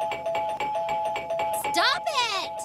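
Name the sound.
doorbell being rung repeatedly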